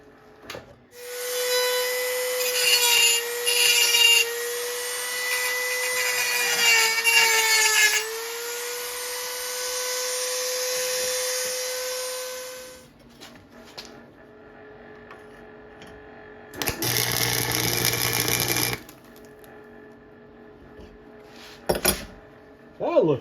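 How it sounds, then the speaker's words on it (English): Dremel rotary tool grinding built-up weld off an exhaust manifold on a 1943 Gravely Model L, a steady high-pitched whine with shifting pitch for about twelve seconds, then stopping, followed by a short burst of grinding later on. "clean it up a bit with the Dremel"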